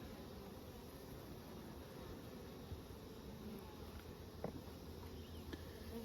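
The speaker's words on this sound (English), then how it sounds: "There's going to be heaps of bees in this hive shortly" Honeybees buzz steadily around an open hive with added supers, a soft continuous drone of many insects held close and even throughout, with no one speaking.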